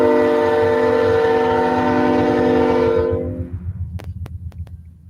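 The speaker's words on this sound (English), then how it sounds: "Bet you hear that train now, don't you?" A train rumbles past nearby with a loud, sustained horn blast, then the horn stops and the low rolling rumble of the cars continues, punctuated by a few sharp clacks.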